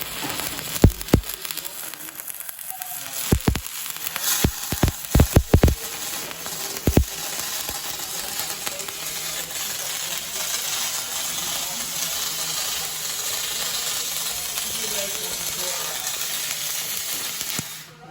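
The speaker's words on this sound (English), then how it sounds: "85 amps, stick mode." A stick welding arc at 85 amps from a Fronius welder on a drain pocket crackles with bursts of sharp pops, then settles into a steady, loud frying hiss.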